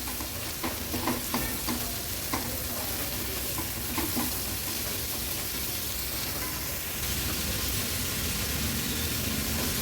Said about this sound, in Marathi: भाजी व्यवस्थित मसाल्यांमध्ये मिक्स करून घ्यायची आहे